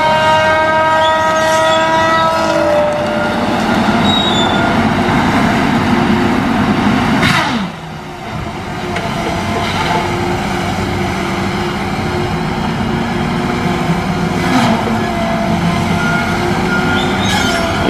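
A Tigercat LX830D feller buncher works trees at close range, its engine roaring steadily with whining hydraulic tones, and a sharp crack and brief dip midway as a treetop breaks.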